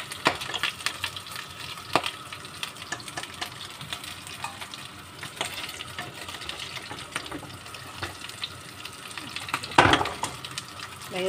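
Pork sautés in a pan with garlic and onion as a spoon stirs it, making a continuous sizzle broken by scraping strokes and an occasional louder clatter of the utensil against the pan.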